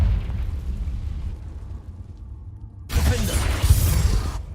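A Confringo fire spell bursts in the video game Hogwarts Legacy, a loud sudden blast that erupts after a quieter rumbling stretch and roars for about a second and a half before cutting off.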